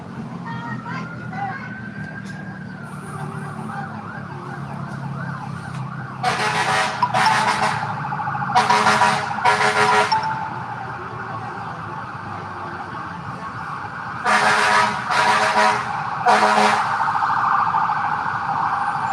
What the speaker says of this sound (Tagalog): Kala ko fire truck, ambulance pala.